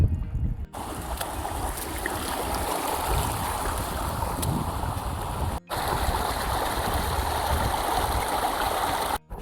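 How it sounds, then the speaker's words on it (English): Large upland stream and waterfall swollen by heavy rain near Dovestone Reservoir in the Peak District, roaring as a dense, continuous rush close by, with two brief dropouts. "we've come across quite a big stream, waterfall."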